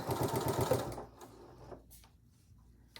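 Sewing machine back stitching on a zipper pouch, a close rapid rhythmic chatter of the needle lasting about a second before stopping, followed by faint handling sounds.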